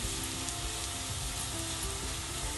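Sliced onions frying golden in hot oil for Jaffna-style lentil curry, a steady dense crackling sizzle heard close up and unbroken for the whole stretch.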